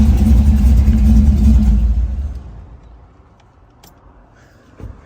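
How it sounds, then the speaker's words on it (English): A brand new truck's engine rumbles loudly up close, then fades steadily as the truck pulls away, leaving quiet with a few faint knocks. "We are gonna be taking this truck for a spin."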